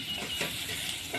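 Cut potatoes dropped into browned onions frying in a pan, giving a soft, continuous sizzle and hiss with small surges, faint and close.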